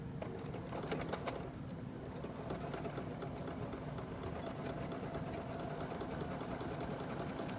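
A sewing machine stitches along the side of a fabric mask, a continuous fast mechanical whir and needle rattle running steadily throughout, moderately close, while birds coo in the background and no one speaks.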